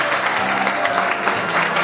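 Audience clapping at a Bulgarian wedding, a brief steady burst of many hands at moderate loudness with a murmur of crowd underneath.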